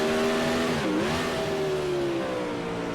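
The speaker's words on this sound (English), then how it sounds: "you can hear him working that throttle through that corner as the track kind of dries up" A pro late model dirt race car engine revving through a corner on a drying track, throttle dipping and then rising again in a steady, close drone.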